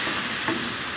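Stew frying in a pot on a parabolic solar cooker outdoors in Sierra Leone: a steady, close sizzle with a constant hiss and no voices, lasting about a second.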